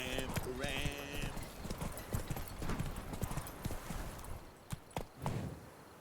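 Hooves of Roach, the horse in The Witcher 3, pound in a quick galloping clip-clop, with a short whinny near the start and a voice speaking over the running.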